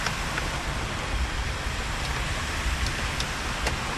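Heavy rain pours steadily onto flooded, potholed roads in the Jammu region, a dense, unbroken hiss with faint passing traffic and no voices.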